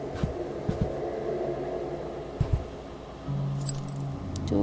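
Keys jangle in the House of Slendrina horror game as a few short metallic clinks and rattles over a low, droning ambient hum, followed by a steady tone near the end.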